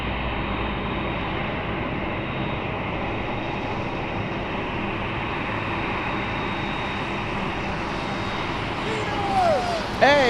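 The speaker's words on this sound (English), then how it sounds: "we had the C-130 doing a go round" C-130 military transport aircraft on a go-around over runway 7 left at Anchorage Ted Stevens International Airport, Alaska, a steady broadband engine roar filling the scene, swelling louder near the end.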